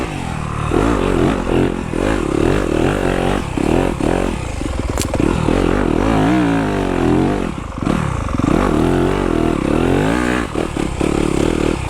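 A 2020 Yamaha YZ250FX four-stroke dirt bike rides along a trail, its engine loud and continuous with rising and falling revs and clattering chassis noise throughout.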